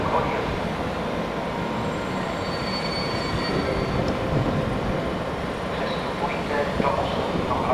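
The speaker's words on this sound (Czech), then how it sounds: "Vlak je připraven k odjezdu." At night at Ostrava Svinov station, a train rumbles steadily with rolling wheel and carriage noise and a few faint squeals and clicks as it departs, holding constant throughout.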